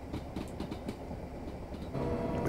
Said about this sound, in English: The Faversham high speed train thing.